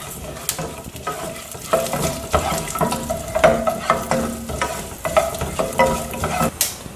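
Coriander seeds and fenugreek roasting in oil for araithu vitta sambar, with steady sizzling and frequent scraping stirs of a spoon in the pan, close and fairly loud throughout, no talking.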